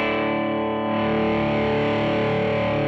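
Electric guitar through a Pigtronix Fat Drive overdrive pedal with the gain turned all the way down, a sustained, mildly driven chord ringing steadily and loud with no talk.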